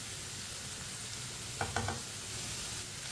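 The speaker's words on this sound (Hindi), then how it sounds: "कटी हुई सुर्ख मिर्च डाल लेंगे।" Chopped red chillies hit hot oil in a pan, giving a steady hiss with a few brief crackling bursts near the middle, close and without talk.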